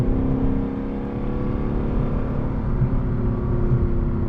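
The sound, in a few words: 2025 Lexus LC 500 engine accelerating to high RPM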